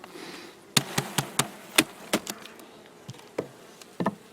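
Honeybees around an open hive during a late-season inspection, with faint buzzing under a series of sharp knocks and taps from frames and hive parts being handled, close by and irregular.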